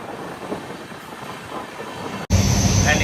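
Telangana Express, in first class, rushes through Giri station at speed without stopping: a steady rumbling roar of rails and carriage that jumps abruptly louder and harsher near the end.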